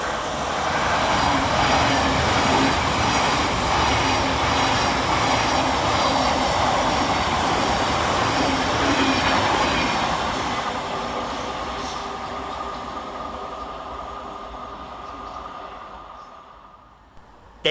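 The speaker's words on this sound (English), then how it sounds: "Coming southbound for Thameslink is 700-133, working the 9 Sierra 17 from Cambridge to Brighton." A Thameslink Class 700 electric multiple unit runs southbound through Anerley station, a loud steady rolling roar and whine close by that slowly fades as it moves away.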